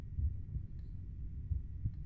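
A low heartbeat pulses in the horror game Fatal Midnight, a few muffled double thumps over a quiet droning background with no voices.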